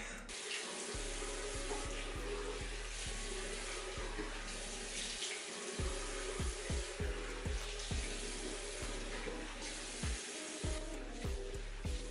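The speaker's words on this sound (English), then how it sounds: "let's go ahead, wash off my face." Tap water runs steadily into a bathroom sink while a face mask is washed off, a close, continuous splashing with brief interruptions as hands move through the stream.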